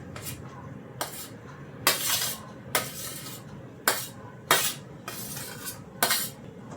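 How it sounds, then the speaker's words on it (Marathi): Raw mango pieces being mixed into pickle masala in a bowl, heard as about eight scraping, clattering strokes of a spoon in a steady rhythm, each one close and fairly loud. "आता ह्या ज्या कैरीच्या फोडी आहेत त्या आपण ह्या मसाल्यामध्ये टाकायच्या आहेत."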